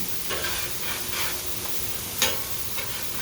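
Chicken pieces turned with a large spatula on a Blackstone griddle: a steady, fairly quiet sizzle with a few soft scrapes and one sharper clack, close by.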